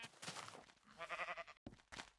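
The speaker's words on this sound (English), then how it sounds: "More sheep." Sheep in Minecraft give a few faint bleats, wavering and nasal, coming in short repeated calls with brief gaps between them.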